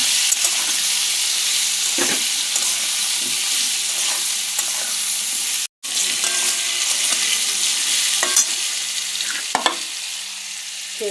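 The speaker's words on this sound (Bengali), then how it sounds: "আলু লাল লাল করে ভাজা হয়ে গেছে" Browned potatoes sizzle steadily in hot oil with salt and turmeric added, a dense continuous frying hiss close by, broken by occasional stirring scrapes and one brief dropout midway.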